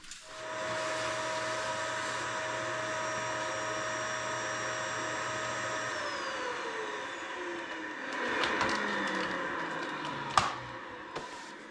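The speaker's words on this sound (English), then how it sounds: "Vacuum out those holes in the back." A vacuum cleaner is run to suck soot out of the secondary burn holes at the back of a wood stove. It gives a steady whine that drops in pitch partway through, followed by a few sharp knocks and clatters near the end.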